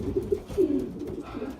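Racing pigeons in a loft coo softly and repeatedly in low, throaty, rolling phrases. The calls are close and moderately quiet, with no one talking.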